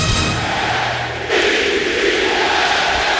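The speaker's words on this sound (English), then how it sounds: "the crowd, it's got some energy and some noise." Football stadium crowd at an NFL game, New England Patriots at New York Jets, roaring in a broad steady wash of noise that swells louder midway and holds, with no talk over it.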